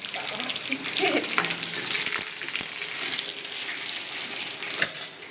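Mustard seeds, dried red chili and bay leaf temper in hot oil with a bright, crackling sizzle, broken by sharp pops and a few clinks of a utensil against the pan.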